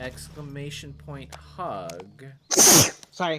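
A single loud, sharp sneeze bursts out in the middle of a livestream chat, surrounded by close speech before and after.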